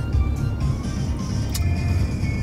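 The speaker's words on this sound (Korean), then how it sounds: "제가 지금 고속도로를 타고 가고 있습니다. 지금 포르쉐 981 카이멘 GTS입니다." A Porsche 981 Cayman GTS cruising on a highway, heard as a steady, loud cabin drone of engine and road rumble with a few faint clicks and no speech.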